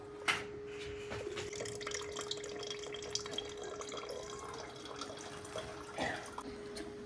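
Water drains off soaked mash dal in a kitchen, a quiet, steady trickle with a few louder drips and splashes, faint against a constant low hum.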